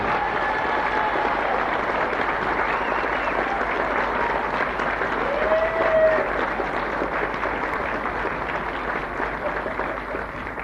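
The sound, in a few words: applause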